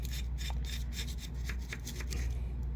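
Scrubbing debris off the gasket mating surface of an engine valve cover on a 2014 Hyundai Elantra, a steady close rasping rub with repeated strokes over a constant low hum, no talk.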